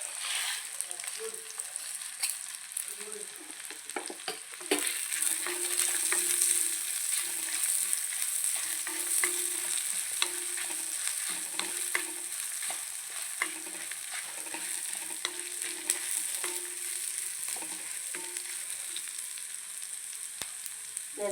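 Dried chillies and coriander seeds dry-roast in a pan for a Kerala-style roasted-spice chicken curry, giving a steady crackling fry and repeated stirring scrapes that grow a little louder partway through.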